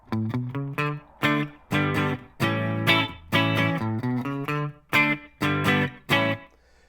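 An electric guitar through a Line 6 Helix vintage clean amp preset plays a rhythmic riff of short plucked chords and notes with a clean, warm tone, separated by brief gaps.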